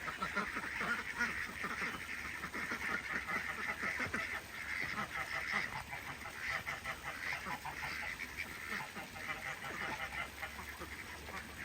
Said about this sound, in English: Every morning we have a duck parade and they march out into the orchard from their ducky bunkie